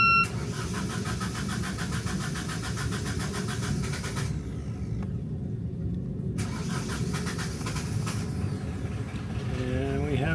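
A catamaran's engine, cranking slowly on low battery amps, turns over and catches, then runs with a steady mid-pitched drone and a few electronic beeps, close by.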